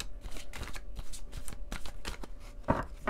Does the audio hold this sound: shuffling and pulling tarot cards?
yes